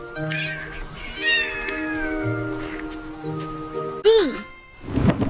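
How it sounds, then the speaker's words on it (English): Cat meowing in a children's animal song, a drawn-out caterwaul with a sharp rising-falling meow near the end, loud and close over music and a singing voice. "C for cat. Meow, meow."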